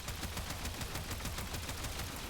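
Rapid, evenly paced gunfire crackles from a semi-auto weapon in the Warframe video game, a dense run of quick shots at steady volume with no gaps and no talking.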